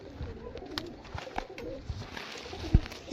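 Domestic pigeons from Andhra, a mated pair of mature yellow-eyed birds, coo softly at close range, with low murmuring calls and a few wing or handling bumps amid quiet background noise.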